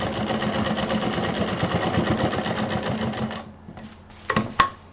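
A sewing machine stitches from a corner of folded fabric, a rapid rhythmic clatter for a few seconds close by, then stopping, followed by a couple of sharp clicks.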